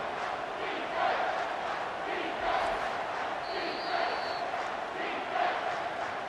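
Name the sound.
home stadium crowd cheering in College Football 25 video game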